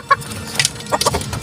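Gamecock and other chickens feeding, giving short soft clucks and calls in a few irregular bursts, fairly close, with no talking.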